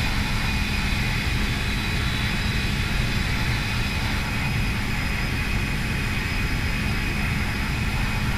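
Airbus A319 jet engines in a ToLiss flight simulator roar steadily during the takeoff roll down the runway, a loud continuous broadband rush with a faint whine, with no voices.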